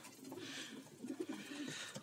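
Pigeons coo softly at a morning feeding, several low throaty calls rising and falling over a quiet, faint background.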